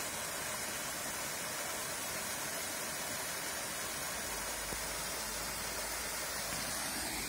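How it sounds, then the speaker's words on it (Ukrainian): A small waterfall at Skhidnytsia rushes in a steady, dense hiss of falling water, close and continuous throughout with no voices. "Водоспад 4 купиця в Східниці."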